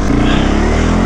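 A quad ATV engine revs loudly and close while riding, a steady, dense rumbling drone that fills the whole moment.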